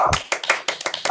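Scattered clapping from an online audience unmuted on a video call after a talk, a few uneven, close claps in a short burst.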